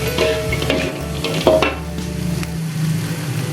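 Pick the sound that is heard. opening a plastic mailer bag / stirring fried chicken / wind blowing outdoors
stirring fried chicken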